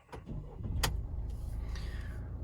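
Mercedes-Benz Vito 114d 4x4 diesel van being started from the driver's seat: a sharp click, then a brief crank as the engine catches and settles into a steady, close idle.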